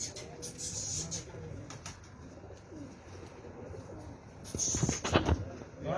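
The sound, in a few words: pigeons cooing while settling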